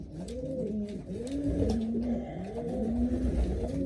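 Nearly a hundred racing pigeons coo in overlapping, rolling phrases, close and steady, against a low background rumble.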